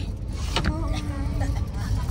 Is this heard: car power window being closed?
yes